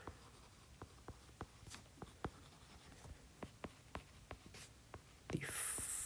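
Pen or marker strokes on a board, heard as a series of soft, regular taps and scratches close by, then a brief louder rustle at the end; no talking.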